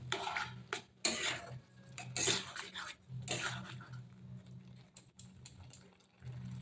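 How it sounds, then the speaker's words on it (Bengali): Potato and pumpkin curry being stirred in a pan, a spoon scraping and clinking against metal in uneven bursts, close and fairly quiet with a low background hum between strokes. "এবার তরকারিটা ভালো করে নেড়ে চেড়ে নেব।"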